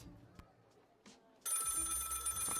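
A telephone rings in the video game Lil' Guardsman, a loud steady electronic bell that starts abruptly after a few faint clicks and keeps going to the end.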